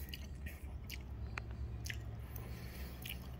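Someone chews a mouthful of Hormel chili with extra cheese and sour cream, soft wet close-up bites and squishy mastication, fairly quiet with no talking.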